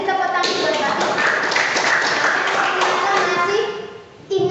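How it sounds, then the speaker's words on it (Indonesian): A classroom bursts into sustained applause for a student, dense clapping from many hands that holds steady for about four seconds before fading, then resumes briefly. "Beri tepuk tangan buat Mbak Rista"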